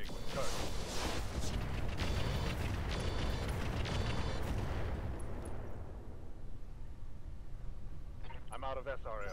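Mech weapons fire all at once in the Roguetech video game: a loud, dense barrage of shots and explosions for about five seconds, then a lower rumbling tail as the salvo fades.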